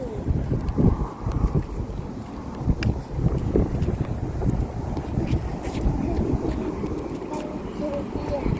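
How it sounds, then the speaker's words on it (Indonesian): Strong wind gusts buffet the microphone outdoors in cold winter weather, a rough roaring rush that swells and dips, with light rustling and bumps over it. "Anginnya lumayan ya,"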